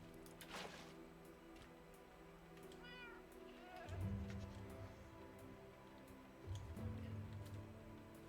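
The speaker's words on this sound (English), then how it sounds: "I'm hearing cats and goats." Cats meow in the Minecraft video game, a couple of quiet, drawn-out mewing calls over a faint ticking background, with low rumbling game ambience underneath and no talking.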